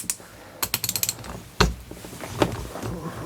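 A 1/2 inch socket unscrews a carburetor needle valve seat: a quick run of small ratcheting clicks, then a sharper metallic knock and a few scattered taps, close up with no talking.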